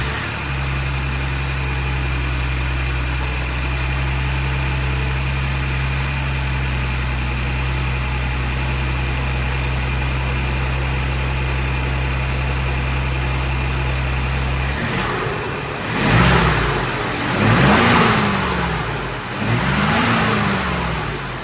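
A 2022 Ford Bronco Wildtrak 2.7 engine fitted with a Roush cold air intake idles with a steady low hum, then revs three times in quick succession, each rise and fall loud and close.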